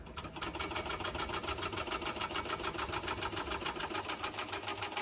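A sewing machine stitching a bucket bag, a fast even mechanical whir of needle strokes running continuously and close by, with no voices.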